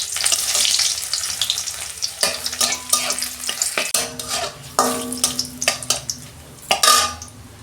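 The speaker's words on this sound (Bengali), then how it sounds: "তেলের ওপর রসুনটাও দিয়ে দিচ্ছি।" Garlic and a bay leaf fry in hot oil, giving a steady sizzle broken by scraping stirs and clinks of a utensil against the pan, close and fairly loud.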